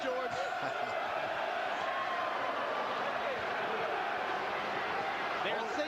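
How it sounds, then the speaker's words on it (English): A large boxing arena crowd at a heavyweight title fight roars and sings in a dense, continuous wash of noise, with a commentator talking over the top. "They're cheering downstairs. The applause is building."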